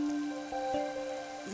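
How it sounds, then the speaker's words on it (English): Steady rain patters in Rain Code Plus over a faint sustained tone, with a soft thump midway and another near the end; no one speaks. "The rain, it never stops."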